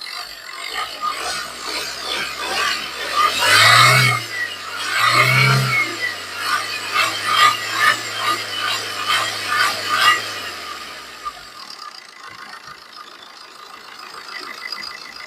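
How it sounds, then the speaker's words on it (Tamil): A Tata Manza car engine idles close by, shaking, then is revved twice in quick succession before settling back to a rough idle and cutting out. "ரேஸ் பண்ணி காமிக்கிற பாருங்க"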